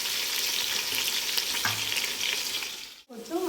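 Green chillies fry in a pan with a loud, steady sizzle and hiss, stirred now and then, with a sudden brief drop in sound near the end.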